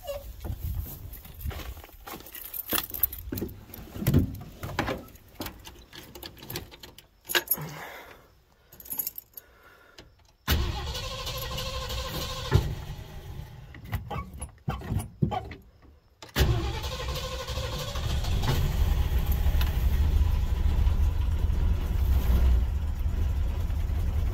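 A 43-year-old Ford Econoline E150 van, started after sitting through winter, gives irregular clunks and cranking sounds, then catches and settles into a loud, steady idle close by.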